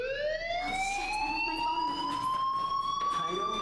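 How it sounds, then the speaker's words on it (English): A fire alarm in Life is Strange blares a loud, sustained electronic tone that slowly rises in pitch and holds, steady and piercing from start to finish. "do you hear that fire alarm?"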